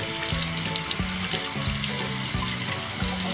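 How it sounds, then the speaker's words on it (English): Water poured from a cup streams steadily while rinsing soap off a skinny pig's back during a bath, a continuous close splashing and trickling that runs the whole time. "Gently rinse the soap off from her back"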